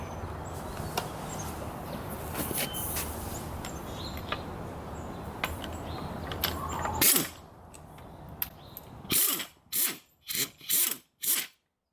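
Metal spring compressor being fitted onto a Volvo S60 coil spring, with scraping, rubbing and creaking clanks close by, then several loud separate mechanical bursts at the end.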